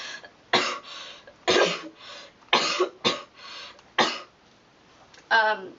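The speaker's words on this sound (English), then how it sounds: "I have this nagging cough that won't seem to go away" A person with a nagging, lingering cough coughs repeatedly, about seven sharp bursts spaced roughly half a second to a second apart, close up, with a final harsher throaty cough.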